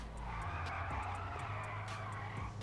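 A car drifting in a GTA video game slides in a long continuous tire skid with a steady engine drone, loud and close throughout, with no talk over it.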